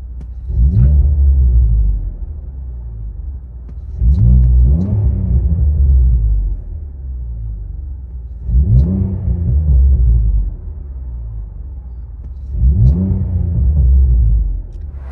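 V6 car engine with an aftermarket-style exhaust, revved four times in an even rhythm, each a loud deep rising roar that falls back to a rumbling idle between blips.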